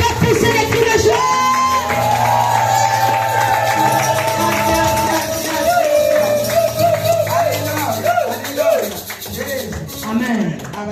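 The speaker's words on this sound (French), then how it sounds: "Est-ce que tu peux encore pousser les cris de joie?" A church congregation at a French-language Sunday service erupts in loud, sustained shouts and whoops of joy, a dense crowd roar with overlapping voices and music underneath throughout.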